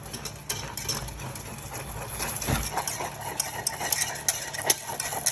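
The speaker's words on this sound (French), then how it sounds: "on mélange jusqu'à épaississement" A utensil stirs a custard cream mixture as it thickens, making soft repeated scraping and clinking strokes against the pot, fairly close and without talk.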